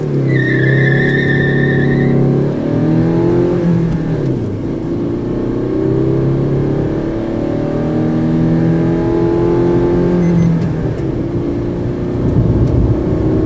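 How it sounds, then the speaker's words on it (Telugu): A Maruti S-Cross car accelerates hard toward 120, its loud engine note climbing in rising sweeps through successive gear changes, each shift dropping the pitch briefly before it climbs again under constant road and wind roar. "ఇప్పుడు మనం ఈ వెహికల్ని 0 to 120 వరకు తీసుకెళ్దాం, 120 140 వరకు తీసుకెళ్దాం"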